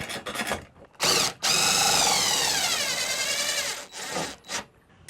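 A power tool drives lag bolts into an RV air-flow system mounting bracket, whirring in a long sustained run with pitch shifts, preceded and followed by short bursts and clicks, close and loud.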